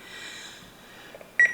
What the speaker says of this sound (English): Setting my timer,